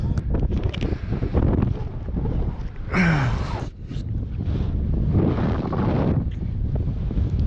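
Strong wind buffets the microphone on a Peak District hilltop near Win Hill and Ladybower, with loud, continuous rumbling gusts and a brief whistling swell midway.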